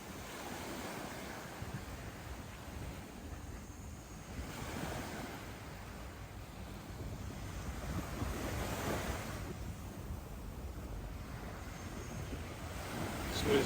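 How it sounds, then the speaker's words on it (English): Waves wash onto a beach on Koh Samui, Thailand, a steady low surf roar with gentle swells, mixed with wind buffeting the microphone and no clear talk. "here's the beach right in front of where we were sitting around and having a beer"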